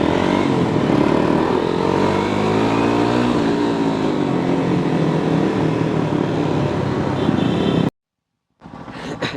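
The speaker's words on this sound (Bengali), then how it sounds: "বাজারের ভিতর দিয়ে এতগুলো বাইক একসাথে ঢুকতেছে" A large group of motorbikes rides together through a market on a Dhaka to Sirajganj tour, their engines a loud, dense, continuous drone that cuts out abruptly near the end before resuming faintly.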